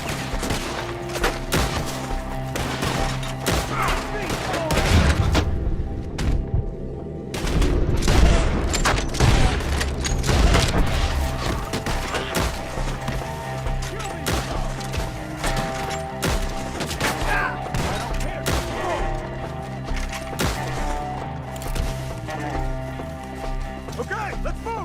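Gunfire from a shootout in the video game Red Dead Redemption 2, with dense shots, horse hooves and shouting voices mixed over a continuous loud battle soundtrack.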